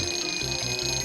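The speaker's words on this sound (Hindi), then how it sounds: "चलो अलार्म लगाएं" An alarm or buzzer sounds in a cartoon scene, a steady electronic tone with pulsing low beeps repeating about every 0.4 seconds, loud and continuous with no talking.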